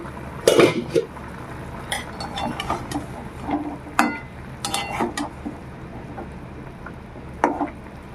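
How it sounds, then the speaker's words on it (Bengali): A metal pot lid lifted and set down over boiled green bananas, with a sharp clank at first, then scattered rattles and light metallic knocks against the pot. "ঢাকনাটা তুলে দেখে নেব কলাগুলো সেদ্ধ হয়েছে কিনা"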